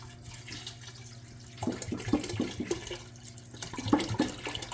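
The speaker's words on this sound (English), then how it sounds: "I'm gonna put some water in here." Water pours into a container for homemade ginger beer with clove, a gurgling splashing stream in two bursts, close and moderately loud with no talk.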